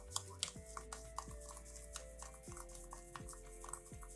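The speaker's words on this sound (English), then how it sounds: "So now let's mix this together." Stirring a sugar lip scrub with stearic acid, oils and bergamot fragrance in a small container, faint gritty scraping with light repeated clicks and ticks of the utensil, close and quiet, with no talk.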